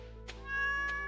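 Two short meows from a cat in the Stardew Valley video game, clear and evenly spaced over a steady background music drone.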